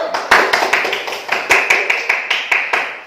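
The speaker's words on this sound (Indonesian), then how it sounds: "Berikan tepuk tangan untuk kelompok 1" A classroom of pupils claps for a group that has just presented, with several loud bursts of hand claps in an uneven rhythm that swell and fade throughout.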